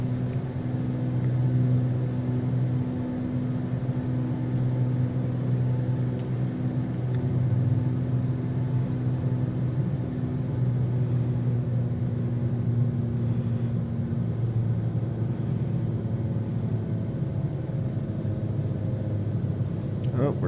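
An aircraft engine throttling up in Microsoft Flight Simulator, a steady droning hum with a sustained tone that holds for most of the stretch, while a voice is heard over it.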